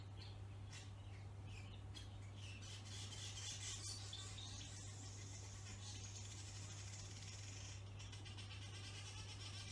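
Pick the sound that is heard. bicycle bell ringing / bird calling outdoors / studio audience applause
bird calling outdoors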